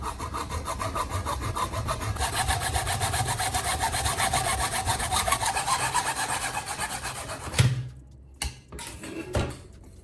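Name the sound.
handsaw cutting pipe with steady strokes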